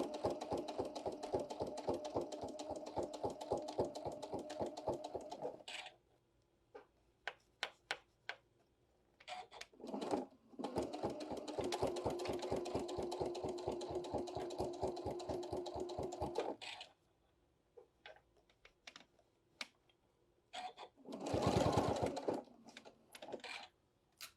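A sewing machine stitches a bag in two long rapid runs of even, ticking needle strokes, close and clear, separated by quiet pauses with scattered clicks and handling sounds.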